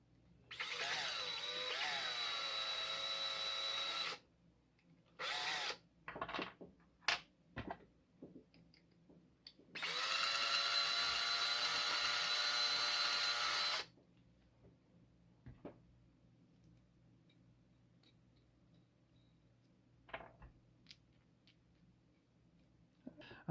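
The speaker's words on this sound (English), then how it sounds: "I think I need to drill out these cams a bit." Power drill boring out the cams of a homemade Raptor Mini crossbow, two sustained whirring runs of about four seconds each separated by brief clicks and handling knocks, close and fairly loud.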